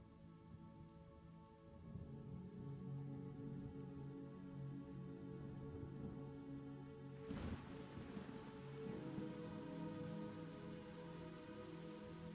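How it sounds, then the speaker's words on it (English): Steady rain falls in a drama scene, a soft continuous patter with a brief louder rush partway through, heard faintly under a low musical background. "getting wet in the rain"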